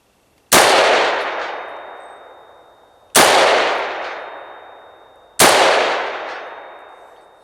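Three sharp rifle reports at an outdoor range, each with a long rolling echo, firing at steel targets set 200 yards downrange; the shots are spaced a few seconds apart and any ring from the steel is lost in the echo.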